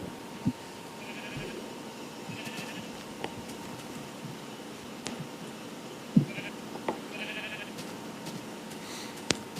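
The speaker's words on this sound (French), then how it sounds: "Ah, il y a des moutons" Sheep in Minecraft, a few faint, brief bleats scattered over quiet game ambience, with soft clicks and no speech.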